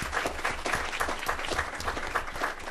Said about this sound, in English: join me in giving a round of applause to the speaker and the commentator